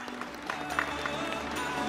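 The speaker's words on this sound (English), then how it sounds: "Please welcome, with a big applause, Andreas Glarner" Applause from the audience at a 2018 crypto summit, fairly faint and scattered claps over crowd murmur and a low hum in the room, lasting briefly.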